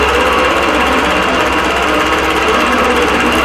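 Longarm quilting machine stitching a spiderweb spindle design across a Halloween appliqué quilt, giving a loud, steady, continuous mechanical whir and rapid needle chatter with no pauses.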